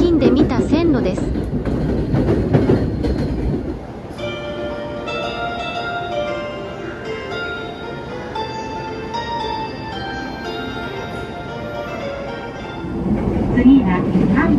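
A JR Negishi Line train runs along the track, a steady rumble with a louder passage at the start and end, and faint tonal whine through the middle; no one talks.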